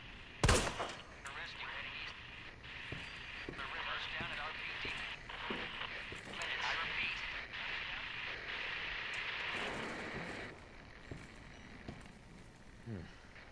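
A single sharp, loud gunshot from the video game Resident Evil 2 Remake cracks out near the start, followed by a few fainter impacts and game sounds under a speaking voice.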